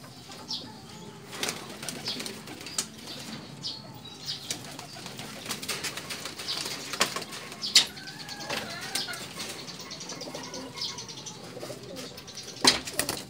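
Pigeons coo softly amid occasional wing flaps and scattered rustles, fairly distant and quiet.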